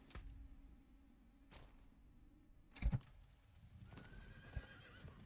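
A horse in the video game Diablo 4 whinnies and its hooves clip-clop, a few faint scattered thuds and a sharper burst near the middle over a quiet background, with no talking.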